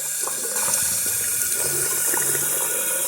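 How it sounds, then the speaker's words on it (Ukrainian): Sneaker soles being rinsed under running water while scrubbed with a brush, a steady close splashing hiss of water throughout with faint scrubbing. "Починаємо змивати це все. Просто водичкою і щіточкою."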